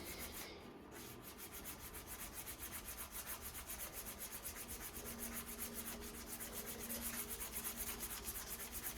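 Hand sanding a firearm with sandpaper, a steady rhythmic back-and-forth rasping close up, continuous and fairly loud throughout with no talking.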